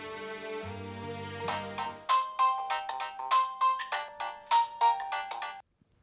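A phone ringtone plays as a bright, repeating electronic melody of short pulsed notes, close and clear, after a lower sustained tone at the start, then cuts off abruptly.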